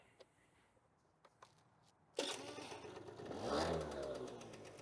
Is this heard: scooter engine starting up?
yes